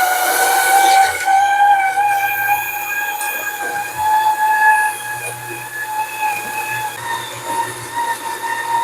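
A ZASMIRA juicer for whole fruits and vegetables whirs loudly while running, a droning motor with sustained high whining tones and a low hum that hold steady throughout, with no talk.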